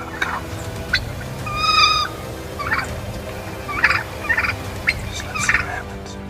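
Wild turkeys in an autumn flock gobble and call in several short bursts, fairly close, with one louder, more sustained call standing out among scattered yelps over low background noise.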